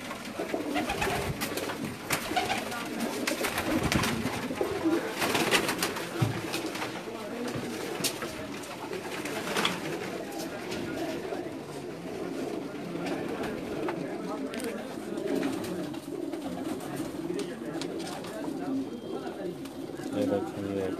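Pakistani pigeons cooing steadily at a rooftop loft in Jeddah, a soft continuous murmur of many birds close by, with people talking over it throughout.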